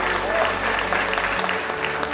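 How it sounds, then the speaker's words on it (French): Brief crowd applause at a young film talent awards event, steady clapping over a low musical hum with some voices mixed in. "Ça s'applaudit."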